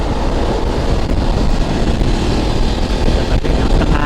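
Loud, constant wind buffeting roars over the engine drone of a BMW F800 GS motorcycle riding on a highway, broadband and unbroken for the whole stretch.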